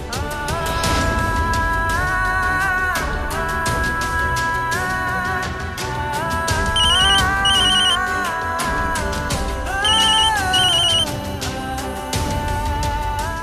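A mobile phone ringtone plays a loud, repeating melodic tune with bright chiming accents, sounding continuously and alone throughout.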